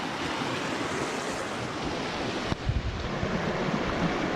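Fern Creek, a mountain stream in Rocky Mountain National Park, rushes loudly and steadily at a trail crossing, with a dense continuous roar and a few brief knocks partway through.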